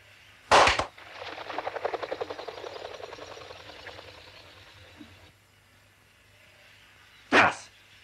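Two sharp, loud gunshots, one near the start and one near the end, are fired at ducks, with a long rattling, flapping commotion in between that fades out.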